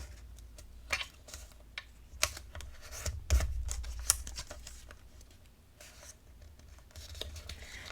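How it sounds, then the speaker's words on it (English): Paper being scored and folded for a mixed-media craft project: quiet, close, scattered ticks, taps and scraping creases in an uneven rhythm with no talking. "I'm going to try to give myself a little bit of a score line. Do our first fold."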